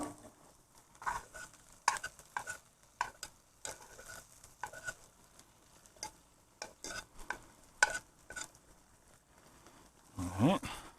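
Onions and asparagus sizzle quietly in a pan while being turned, with intermittent scraping and clinking of a utensil, sporadic soft taps and a louder scrape near the end.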